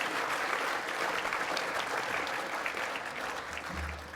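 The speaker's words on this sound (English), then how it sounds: "Please give another round of applause to Minister Ed Husic and CEO Kylie Walker." Sustained, dense applause from a large audience fills a formal awards gala hall for the ATSE Awards, steady and loud throughout with no speech over it.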